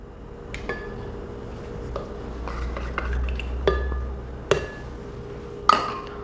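Eggs and oil added to a mixing bowl for cornmeal cake, with several sharp clinks and taps of utensils and shells against the bowl, spaced irregularly over a quiet room hum.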